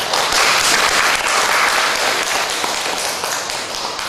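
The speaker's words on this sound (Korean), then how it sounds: "하늘 부모님과 천인 참부모님께 존귀와 영광의 박수를 올려주시기 바랍니다." Loud, sustained applause from a congregation at a church gathering, a thick, even wash of many hands clapping close by for several seconds, easing slightly toward the end.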